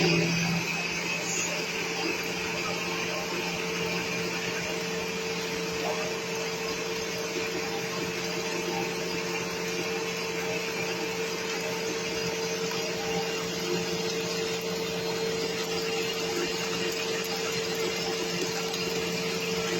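An electric beater whirs steadily at high speed, mixing biscuit batter after oil is added, a loud continuous motor drone close up for the whole stretch.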